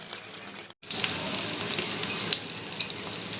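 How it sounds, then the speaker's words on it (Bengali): Egg-dipped chicken jali kebabs fry in hot oil, producing a loud, continuous close sizzle after a brief dropout near the start. "তেল গরম হয়েছে। এবার কাবাবগুলো ভেজে নেব।"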